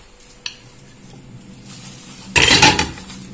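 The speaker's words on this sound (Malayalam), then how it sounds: "പിന്നെ മുളക്, തക്കാളി, നമ്മളൊരു സബോള എല്ലാം കൂടി ഞാൻ ഇതിൽ മിക്സ് ചെയ്യാൻ പോവാണ്." Shallots, chilli, tomato and onion are stirred in a pan, with a sharp metallic clink from the utensil followed by a loud burst of sizzling frying that swells and fades, close and without talk.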